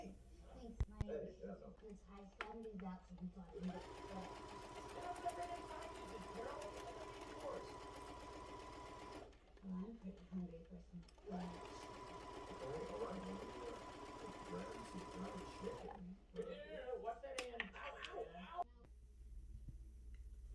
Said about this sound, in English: stitch it together using 5/8 of an inch seam allowance